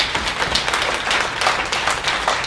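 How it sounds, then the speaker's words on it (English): A round of applause from attendees at a committee meeting, steady dense clapping from a small room of people, moderately loud and continuous for a couple of seconds with no talking over it. "these 5, let's give them a round of applause."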